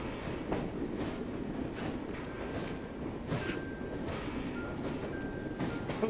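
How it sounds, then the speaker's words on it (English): A moving train in Assassin's Creed Syndicate rumbles as a steady, loud mechanical roar that fills the whole stretch, with faint rhythmic clatter and a thin tonal whine drifting through, and no talking. "Let's not run into the moving train, Evie."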